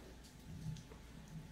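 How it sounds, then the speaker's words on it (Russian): Steady heavy rain pours down in a nighttime downpour in Zaporizhzhia, a continuous hiss with low rumbling swells that suggest thunder, no voices. "такой грохот, молния, ливень просто"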